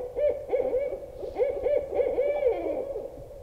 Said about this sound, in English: We can still manage to call in some owls, though, apparently.